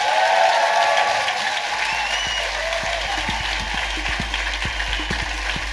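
Steady, dense audience applause at a live comedy podcast recording in a theatre for guest Stephen Merchant, sustained and fairly loud throughout with no talking over it.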